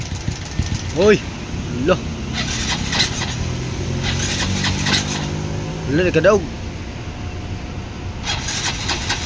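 A Suzuki Smash 115 motorcycle fitted with a 57 mm big-bore kit cranks, catches and idles loudly up close with a faint ticking rattle, revving briefly a few times while people speak over it.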